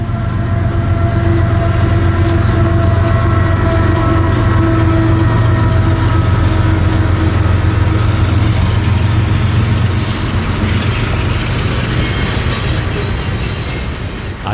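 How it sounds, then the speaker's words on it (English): A long loaded coal train of hopper cars rolls past at close range, a loud continuous low rumble and rhythmic wheel clatter with steady metallic squeal, holding strong throughout and easing slightly at the end. "When he appeared, it was the biggest surprise of the day, a 458-axle coal train."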